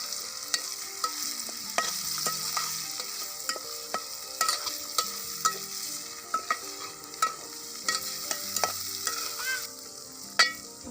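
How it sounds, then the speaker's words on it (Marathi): Leftover masala paste from stuffed brinjal fries in a pan with a steady, close sizzle, punctuated by frequent sharp clinks and scrapes of a spoon stirring it. "ते वांग्यातलं शिल्लक ते पण टाकले तळायला"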